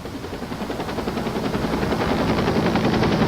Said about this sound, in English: The National Guard had an infrared helicopter come in to assist us on this search